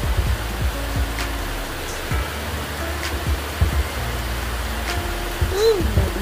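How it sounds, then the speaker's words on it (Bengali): Heavy rain pouring down during a sudden afternoon cyclone storm, a dense steady hiss of falling water with wind, close and continuous, with faint scattered clicks and a brief birdlike chirp near the end. "ভালোই জোরে বৃষ্টি এসছে, আরও জোরে জোরে পড়ছে।"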